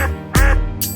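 Mother duck quacking in an animated Hindi nursery rhyme, two or three short loud nasal quacks in quick succession, close and clear with no talking.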